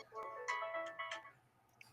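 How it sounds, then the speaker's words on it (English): A phone ringtone goes off, a short bright melodic tune of repeated tones lasting under two seconds, moderately loud and close, with no voices over it. "ringtone that just went off"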